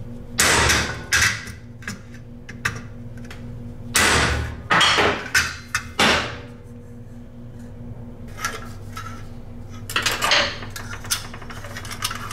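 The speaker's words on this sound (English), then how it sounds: "I'm going to put this on the anvil and flatten that back out" A metal seat piece from a 1973 Trans Am seat is hammered flat on an anvil, with loud, ringing clanks in irregular clusters and pauses between, over a low steady background hum.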